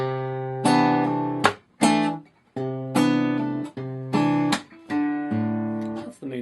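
A solo guitar plays measure 92 of a song, live version, a bass note then plucked notes and ringing chords in a steady series, each decaying before the next, close and clear with no voices.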